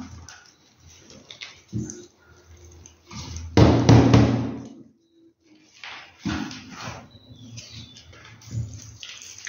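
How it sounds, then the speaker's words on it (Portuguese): Orchid potting substrate being tapped and pressed down into a pot for a Paphiopedilum slipper orchid, giving a few soft, close knocks and rustles with one louder burst of packing, between stretches of speech. "conforme você vai colocando o substrato, você vai batendo e apertando"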